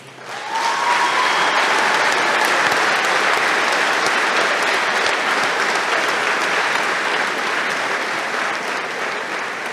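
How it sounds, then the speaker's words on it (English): A large crowd at a community basketball event breaks into loud, sustained applause that swells quickly and holds as a dense wall of clapping and cheering, fading slightly toward the end. "One more round of applause for our first responders, our volunteers, and our community."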